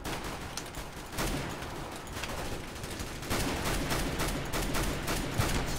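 Dense gunfire rattles in the video game CS:GO, rapid continuous shots forming a loud, unbroken fusillade that intensifies partway through.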